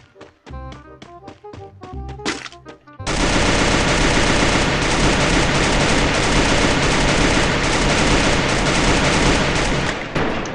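Free Fire mobile battle royale gunfire: a few sharp single shots, then a loud, dense burst of sustained automatic fire and overlapping shots running continuously to the end, close and heavy.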